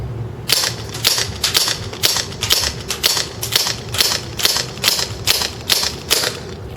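A TSD M1911 airsoft pistol fires BBs downrange in a steady string of about a dozen sharp, snappy shots at an even pace, close and loud with no voices.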